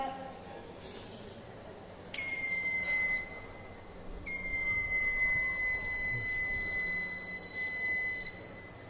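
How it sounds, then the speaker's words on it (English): A high-pitched electronic buzzer on an Arduino LPG gas and flame detector sounds twice, a short steady tone followed by a longer continuous one, loud and close. "Arduino gives to signal buzzer when buzzer will sound"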